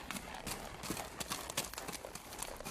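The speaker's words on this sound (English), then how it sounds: "placed a saddle on my horse, and started as fast as possible down the trail taken by Powell." Hooves of a saddled horse gallop fast down a trail, a dense quick clatter of beats at steady volume for a few seconds with no voice over it.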